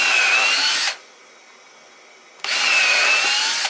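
Power drill boring into wood in a workshop during framing work, two loud sustained bursts of whining motor and bit grinding through timber, separated by a short quiet pause, close and alone.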